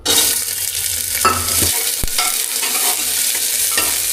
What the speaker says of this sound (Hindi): अब इसके अंदर प्याज को डाल देता हूँ।